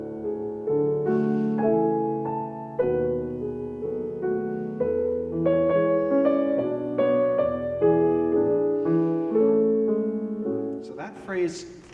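A gentle, slow instrumental passage with soft sustained chords and a quiet melody drifting over them, calm and tender, fading at the end.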